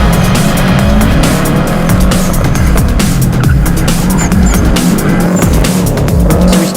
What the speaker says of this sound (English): we started doing some donuts out the back around the forklift